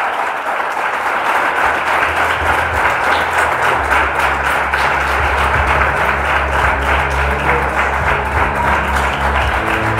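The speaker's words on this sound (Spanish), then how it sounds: "Dele un fuerte aplauso al Señor en esta hora." Congregation in a church applauding loudly and steadily for the whole stretch, a dense wash of many hands with a low drone of music or organ beneath and faint voices mixed in.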